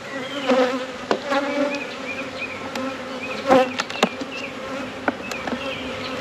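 Honey bees buzz steadily around an opened hive, a close, dense drone with individual bees flying past the microphone, broken by occasional clicks and knocks from frames being handled.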